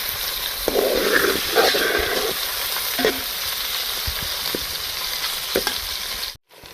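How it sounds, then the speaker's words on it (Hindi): Chicken pieces frying until golden for a bitter gourd (karela) chicken curry, a steady close sizzle with occasional stirring scrapes and clinks, ending in a brief cut to silence. "चिकन को भी हम फ्राई कर लेंगे, गोल्डन कर लेंगे"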